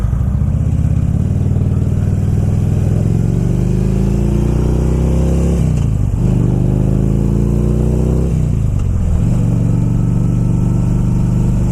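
A motorcycle engine runs loud and close, rising through the gears in long revving pulls, dropping back sharply between shifts, with a steady throaty drone throughout.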